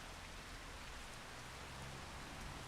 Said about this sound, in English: Except for the fact that it's still raining, but it's not going to bother my sugar beets